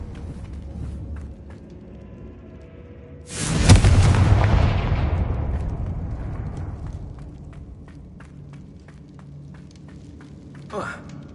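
A single loud blasting-spell explosion goes off in a wizard video game, a sudden boom that decays slowly over several seconds amid faint game ambience, with a smaller thud afterward.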